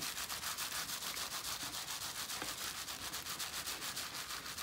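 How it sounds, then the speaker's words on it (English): Wet felt wool edges rubbed between two fingers, a steady, close, fast rhythmic swishing friction that continues without break and without talk. "I'm sort of just rubbing them in between two fingers and I've got another finger sort of along the top"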